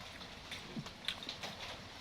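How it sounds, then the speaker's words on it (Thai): Rain begins to fall outdoors, scattered faint drops ticking and pattering lightly at an irregular pace over a soft background hiss. "ฝนมาแล้วนะคะพี่น้อง"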